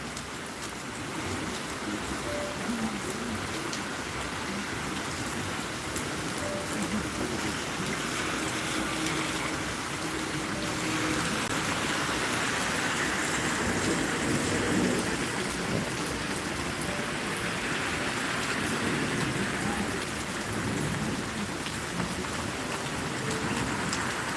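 Steady rain falls across an open lakeside park in Celebration, Florida, a dense, continuous hiss of drops hitting surfaces with low rumbling underneath, holding an even level throughout with no voices.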